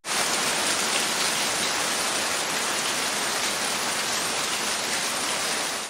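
Storm with hail and heavy rain in Breaza, Prahova, a dense, loud, continuous hiss of falling rain and ice that stays even from start to end.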